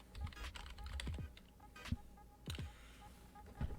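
Quiet clicking of keys on a computer keyboard in irregular bursts of keystrokes, fairly close and without speech.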